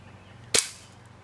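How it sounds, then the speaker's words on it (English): A single sharp gunshot crack at a rifle range, loud and close, with a short bright burst that decays quickly into a quiet background. "You can shoot lamps."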